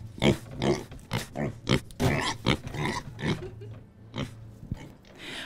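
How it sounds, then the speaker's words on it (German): Pigs at the Fête Impériale 2014 ball grunt and oink in a quick series of close, loud snorts, some squealing, with short pauses between bursts. "Ich habe jetzt die Schweine gefunden."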